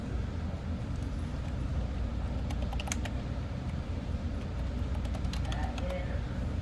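Computer keyboard keys tap in a short run while a tire quote for four tires for a Ford F-150 is entered, the clicks sitting over a steady low rumble of room noise.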